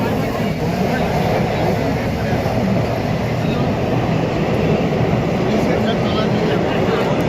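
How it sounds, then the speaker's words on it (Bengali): Kolkata's underwater metro train runs through a tunnel beneath the Ganges, heard from inside as a loud, continuous low rumble and roar that holds steady throughout. "ফার্স্ট টাইম যাচ্ছি আমরা আন্ডার ওয়াটার মেট্রো মানে জলের তলা থেকে"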